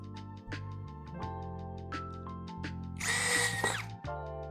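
A power drill fastens down components of a 10 kWh LFP battery build with a JK BMS, one short high-pitched whirring burst near the end over a steady low hum and faint ticking.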